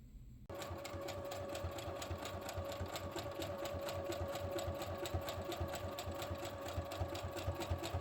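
A sewing machine starts up and stitches at a fast, steady pace, its needle hammering in an even mechanical rhythm, close and continuous after a brief quiet start.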